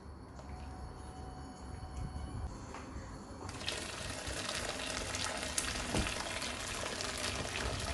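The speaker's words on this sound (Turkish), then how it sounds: "Şöyle bir karıştırıyorum. Dipten." Thick ashure pudding stirred from the bottom of a pot, a continuous scraping, bubbling churn that grows louder and denser partway through and carries on steadily, with no talking.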